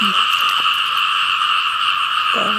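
Frogs croak steadily at night during a frog hunt in a rural field, a dense chorus with strong insect-like trilling held throughout and a few lower croaks close by near the start and end.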